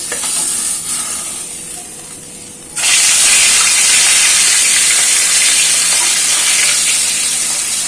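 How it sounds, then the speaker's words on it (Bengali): Fish drops into hot oil and erupts into a loud, sudden sizzling hiss that holds steady for several seconds, after a quieter stretch of faint frying. "তেল গরম হয়ে গেছে, মাছটা ছেড়ে দিই।"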